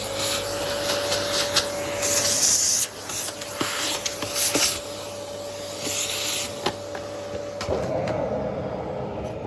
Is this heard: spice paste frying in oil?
no